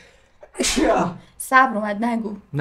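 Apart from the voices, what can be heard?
sneeze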